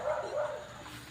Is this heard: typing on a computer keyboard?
no